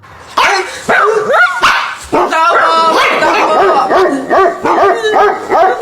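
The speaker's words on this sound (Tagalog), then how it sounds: "Nakakatakot naman yung mga tahol na aso." Several dogs bark and yip loudly in rapid, overlapping bursts close by, with a whimpering edge, while a person calls out briefly over them.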